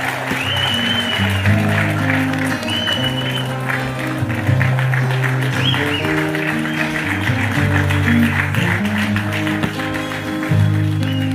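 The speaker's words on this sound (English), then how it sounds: "A resounding round of applause, please" Audience applause following a swearing-in ceremony for a new Ghanaian citizen, a steady crowd clapping that holds at an even level throughout, with music or tones running beneath it.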